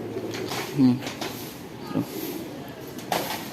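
A Shahjahanpuri pigeon, a rare yellowish Indian breed, gives a short low coo, then softer faint coos follow against a noisy room with indistinct background voices.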